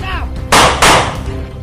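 Two sharp, loud bursts of video-game gunfire crack out in quick succession during an intense shooter match, each blast ringing briefly before fading.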